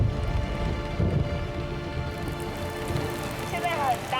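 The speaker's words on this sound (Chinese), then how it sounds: "现在很大雨耶。" Heavy rain pours down steadily around a cyclist riding through a downpour on a long-distance ride back to Singapore, a dense continuous hiss of drops striking surfaces that stays loud throughout, with a voice briefly audible partway through.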